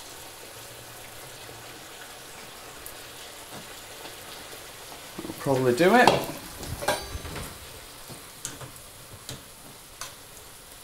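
Vegetables poured into a hot frying pan burst into a loud sizzle that swells briefly and then settles into a quieter crackle, while a voice speaks softly over the cooking.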